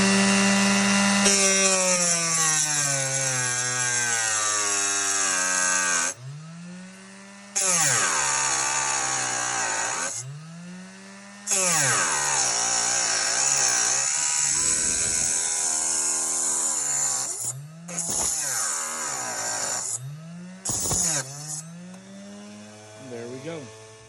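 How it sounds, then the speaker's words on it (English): A small cutoff saw whines as it cuts a 1/25 scale model part, a loud close motor with shifting pitch that spins down and back up several times between cuts. "it's just a simple cutoff saw, but it can get the job done"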